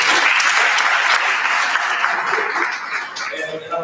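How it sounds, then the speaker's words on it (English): A college council audience claps together in a full burst that gradually thins and fades, with a few murmurs and light laughter showing through near the end. "Why don't we give ourselves a hand clap for that?"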